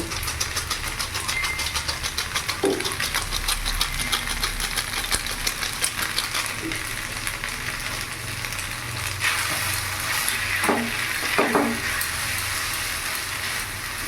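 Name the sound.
stirring Chinese singara filling with Maggi masala in pan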